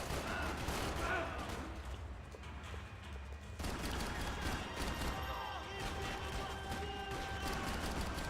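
Gunfire in the video game Max Payne 3, heard as a continuous faint din of shots and crashing bursts under a dense game soundscape, with voices mixed in.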